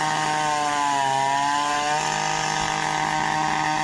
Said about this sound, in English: He's got a carbide tooth chainsaw cutting that 24-inch cast iron pipe.